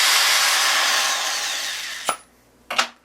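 A case trimmer cuts a brass rifle cartridge case, a loud steady whirring grind that cuts off, followed by two short clicks and a brief rattle.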